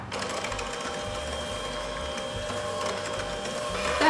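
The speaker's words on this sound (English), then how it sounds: "I'm gonna whisk it until it's nice and fluffy with the electric hand mixer" Electric hand mixer whisking butter, espresso mixture and granulated sugar for fudgy almond brownies, a steady continuous motor whir with a fine rattling edge, close and constant, growing slightly louder at the end, with no talking.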